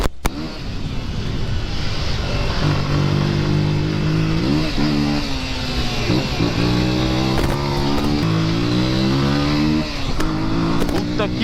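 Motorcycle engine revving up and down through rising and falling gear changes while riding in night traffic in Brazil, loud and close with a steady rush of wind and road noise.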